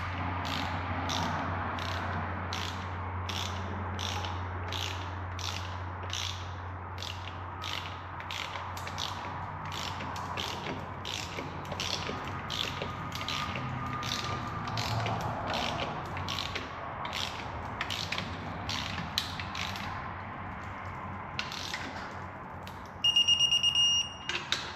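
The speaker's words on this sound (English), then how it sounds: "We can start torquing." Torque wrench ratcheting in a long series of quick clicks as it tightens exhaust manifold bolts on a Ford 3.5 EcoBoost engine, with a steady low hum underneath and no talk.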